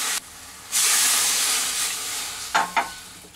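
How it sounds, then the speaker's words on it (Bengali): Water hits a hot kadai with a loud, steady sizzling hiss that surges after a brief lull and slowly fades, followed by two sharp utensil clinks near the end. Close and alone, with no talk. "আমি একটা কড়াই বসি নিয়েছি, এর মধ্যে আমি দিয়ে দেব জল"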